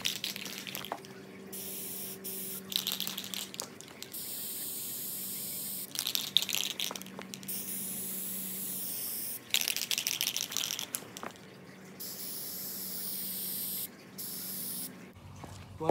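Short bursts of aerosol spray paint hiss repeatedly onto a car or bike part with brief pauses between them, accompanied by faint rattling and clicking nearby.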